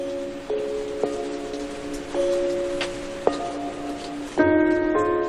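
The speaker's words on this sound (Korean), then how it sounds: "비는 내리고 또 내립니다." Steady rain falls on Yakushima island during the rainy season as a continuous even hiss, with sustained tones running over it and a louder swell near the end.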